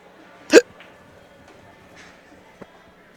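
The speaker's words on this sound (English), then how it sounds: "Don't tell me I'm gonna have the hiccups now." A single sharp hiccup sounds close by, a short abrupt burst, followed by a faint tap and quiet background noise.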